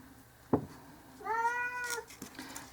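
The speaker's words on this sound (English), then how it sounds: "And ignore the cat." A house cat lets out a single clear, drawn-out meow near the microphone, preceded by a brief knock and set against a quiet workshop room.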